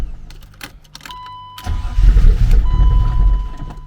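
A turbocharged BMW E36 that fails to start: a steady chime tone and light key clicks come first, then the engine cranks with a loud, close, low rumbling churn that carries on without settling into a clean idle.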